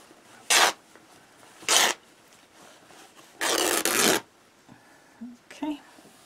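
Quilting fabric ripped apart by hand, three loud tearing bursts, the last one longer, followed by a few quieter rustles.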